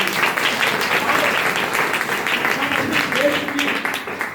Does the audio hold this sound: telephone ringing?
no